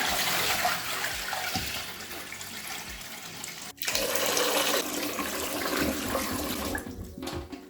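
Continuous rushing, splashing water being poured off soaked ofada rice, close and fairly loud, with a brief break midway before the flow resumes.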